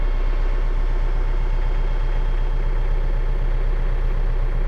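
A Rural King RK55 tractor's Yanmar diesel engine idles loud and close with an even, low, pulsing rumble that holds steady throughout.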